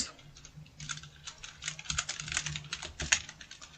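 Rapid keystrokes on a computer keyboard while entering a local web address in a browser, a steady run of close, crisp clicks with a few louder key hits and no talking.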